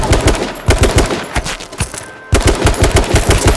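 Loud automatic gunfire in the survival shooter H1Z1, rapid repeated shots in steady bursts, briefly cut off before another dense volley resumes.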